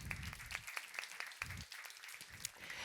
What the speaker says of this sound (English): Let's give ourselves an applause.